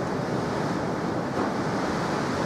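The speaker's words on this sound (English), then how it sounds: "It's getting really windy outside." Strong wind gusts outside, a steady broadband roar with no breaks, fairly faint and distant, like rushing air or surf, with no voices.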